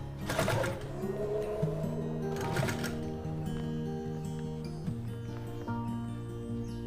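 A sewing machine stitches a folded sari fabric edge for a designer purse. Its motor gives a steady close whirring hum with a few short, louder bursts near the start.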